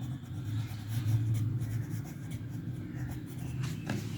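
Scratchy writing strokes on paper or a board during a class four multiplication and division lesson, a continuous rubbing scrawl with short pauses, close and fairly quiet, with no talking.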